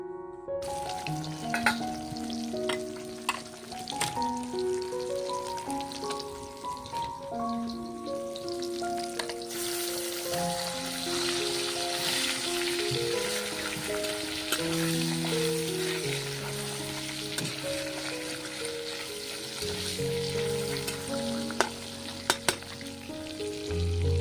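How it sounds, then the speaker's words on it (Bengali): Fish fry one by one in a wok over a clay stove, a soft continuous sizzle and crackle under scattered clinks and background hum. "এই কড়াইটাতেই নিয়েছি এক এক করে মাছগুলো ভেজে নেব"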